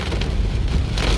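Heavy rain pours down during a storm in Wiang Pa Pao, Chiang Rai, a dense, steady roar of water hitting surfaces that fills the whole moment with no voices.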